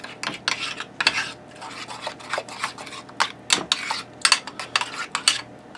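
Tater tot casserole ingredients being stirred and scraped together in a dish, with a steady run of close utensil scrapes, clinks and rubbing strokes, no talking.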